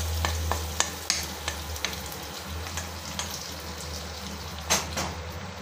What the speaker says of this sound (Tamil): நெய்யில் நான் ஒரு கொஞ்சம் முந்திரியும் திராட்சையும் தாளிச்சிருக்கேன்.